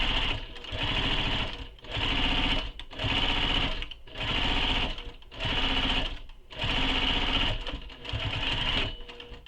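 A sewing machine top stitching a flat fabric quiver sling runs in steady, even bursts, about seven close, loud runs with short pauses between them and no talk.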